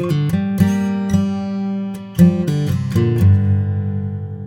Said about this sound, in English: These open strings ring out longer and fill out the sound nicely.